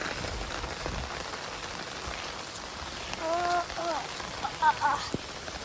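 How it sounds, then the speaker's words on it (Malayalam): Steady rain patters on surfaces with a soft constant hiss, joined briefly by a few chirping bird calls toward the end. "അങ്ങനെ ഈ മഴ നല്ലൊരു മഴയായി വന്നു"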